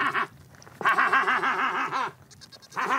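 Goats bleat on the island of Socotra, three wavering cries close by, the middle one long and quavering, separated by brief quiet gaps.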